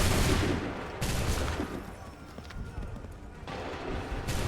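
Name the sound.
musket volley fired on command, Assassin's Creed 3 video game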